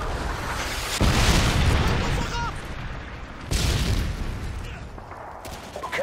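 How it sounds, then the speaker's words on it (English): Predator missile strikes in Modern Warfare 2 multiplayer, two heavy explosive booms about two and a half seconds apart, each with a rumbling tail, amid gameplay sounds and occasional talk. "Predator missile inbound."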